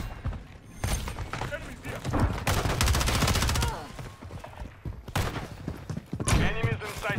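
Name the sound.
gunfire in video game Modern Warfare 3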